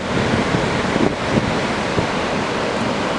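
Ocean surf breaks at a surf spot near Anglet under a light to moderate west-northwest wind, a steady loud roar of waves with gusty wind buffeting the microphone and a few soft thuds, no voices.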